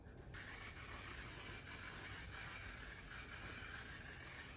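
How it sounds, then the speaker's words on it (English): One Size setting spray is misted onto a face, a close, continuous hiss lasting several seconds after a brief moment of quiet. "last spray, the One Size setting spray."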